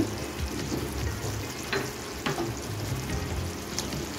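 Tawa paneer masala sizzling and frying in a pan as it is stirred with spices and chopped coriander, a steady close hiss broken by a few scraping strokes.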